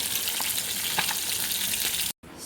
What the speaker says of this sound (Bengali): সব মাছগুলো আমার ভাজা হয়ে গেল